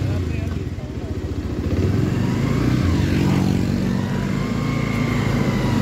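A motorcycle engine idles and chugs close by with a steady low rumble before the bike pulls off, while someone talks over it.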